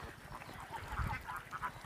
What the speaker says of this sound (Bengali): এগুলো হচ্ছে আপনার কাকি ক্যাম্বেল এক গ্রেডের হাঁস